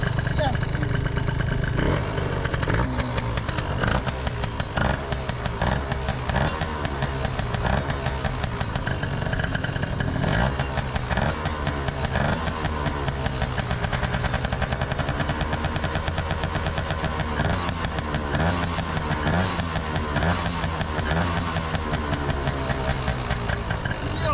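Gilera Runner scooter engine revving and idling with a harsh, buzzy motocross-like tone, loud and close for the whole stretch, with rising and falling revs and people talking over it.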